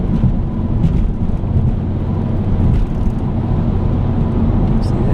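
A car creeping slowly past on a road, a steady loud low rumble of engine and tyres close by, with no voices in the clip.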